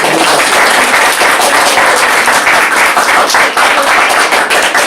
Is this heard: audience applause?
yes